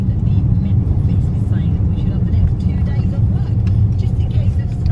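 Low, continuous road rumble from inside a car driving through London, with people talking over the drone.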